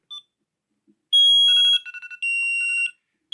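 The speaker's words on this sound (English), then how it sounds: "it sets off a loud alarm" A Knog Scout Bluetooth luggage tracker's anti-theft alarm blares loud, shrill electronic tones in two long bursts with a brief stuttering break between them, close and piercing, with a short chirp at the start.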